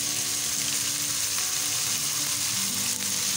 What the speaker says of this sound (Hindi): चिकन अच्छी तरीके से ब्राउन कर लेंगे।